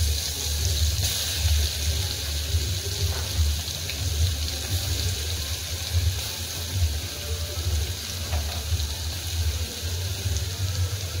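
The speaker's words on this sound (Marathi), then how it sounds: "आता आपलं तेल तापलेलं आहे। आता आपण हे खोबऱ्याचा कूट टाकून घेऊया ह्याच्यात।" Ground coconut, garlic and coriander fry in hot oil for a ridge gourd curry, giving a steady, dense sizzle that carries evenly from start to finish with no voices.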